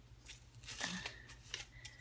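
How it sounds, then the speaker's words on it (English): A few quick snips of scissors cutting paper, close and fairly quiet, with light rustling between cuts. "gonna have to use the scissors."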